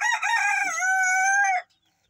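A young black crossbreed rooster, a stag, crows once up close, a loud sustained harmonic call lasting about a second and a half before stopping abruptly into silence.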